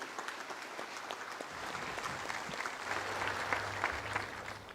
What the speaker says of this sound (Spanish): le damos un caluroso aplauso a ellos y le damos la más cordial bienvenida.